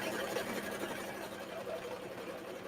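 A sewing machine stitches through a card stock booklet with a close, fast, steady whirring hum, fairly quiet throughout.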